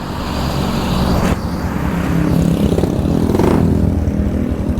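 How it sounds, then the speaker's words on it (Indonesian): Two-stroke motorcycle with a modified, opened-up exhaust revving up close, a loud raspy engine roar rising and falling in a few throttle blips. "Langsung saja kita cek soundin untuk suara mesinnya."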